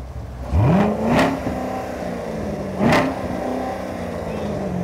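A mid-engine sports car at a showcase revs twice, each blip climbing quickly to a loud peak and falling back to a steady idle, close by with some background chatter.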